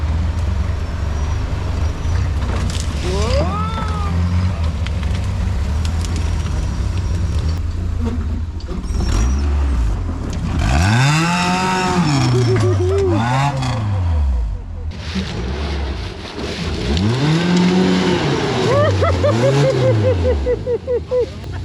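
An off-road rig's engine revs hard in repeated surging bursts, rising and falling in pitch, with a loud rumbling roar and some voices in the background.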